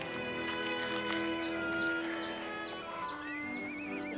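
A horse on a family farm gives a loud, wavering neigh over a sustained whinnying tone, with a busy background of other animal and stable sounds and no speech.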